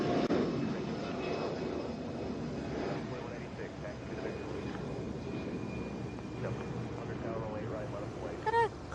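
An Airbus A320 airliner roars steadily overhead at Atlanta airport, a broad, continuous engine rumble and whoosh sustained throughout at moderate loudness, with a brief higher chirp near the end.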